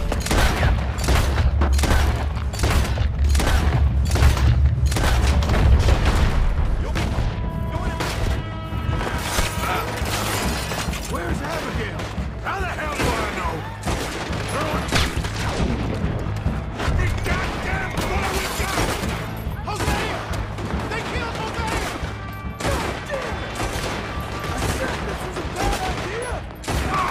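A sustained gunfight in the Western game Red Dead Redemption II, rapid overlapping gunshots and rifle cracks firing continuously for nearly half a minute, loud and close, with occasional shouted voices mixed in.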